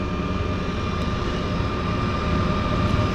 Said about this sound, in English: got another aircraft here